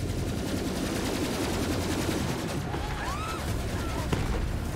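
Continuous rapid gunfire fills a Borderlands firefight in the Krieg DLC, a dense, loud wash of automatic shots with a few brief whistling sounds near the end and no break in the shooting.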